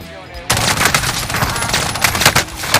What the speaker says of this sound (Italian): puoi anche fare just chat mentre spari con l'AUG